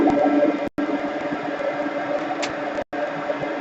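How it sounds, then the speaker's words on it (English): A vacuum attached to a 3040 CNC mill runs as a loud, continuous broadband roar with a slight droning tone, steady apart from two brief gaps. "I'll turn on the vacuum."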